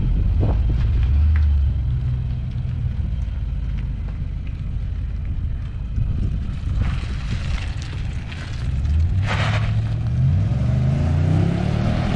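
Nissan Patrol Y62 fitted with a Torqit aftermarket exhaust pulls away, its deep engine rumble and exhaust note rising and falling steadily and loud throughout, with a revving surge near the end.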